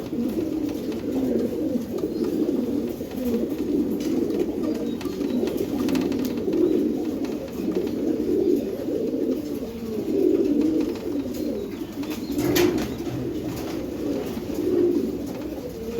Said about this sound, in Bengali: এই যে এক পেয়ার কবুতর